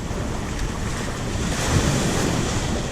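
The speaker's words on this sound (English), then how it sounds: "the waves are just rolling right up to the table" Ocean waves roll up onto a beach beside a palapa restaurant in Huatulco, a continuous close wash of surf with a gentle surge midway, mixed with some wind rush.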